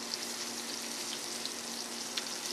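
Food sizzles steadily in a hot pan after being flipped, a constant soft crackle with a few sharper pops, near and fairly quiet, with no talking.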